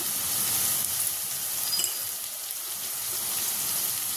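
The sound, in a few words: masala spices being fried and stirred with salt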